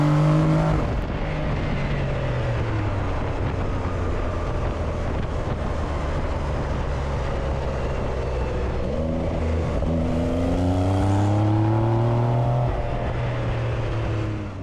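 A new Porsche 911 Carrera pulls away from a slow roll on a straight road. Steady, close engine drone rises through the gears as it accelerates, with wind noise throughout and no talking.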